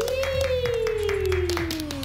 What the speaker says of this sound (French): Applaudissements pour la maison de l'amour.